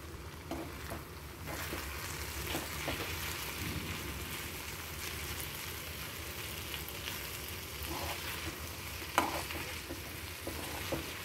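Sorakaya (bottle gourd) curry is stirred in a pan after coriander powder goes in, giving a continuous close sizzle and scraping churn that runs steadily throughout with no voices.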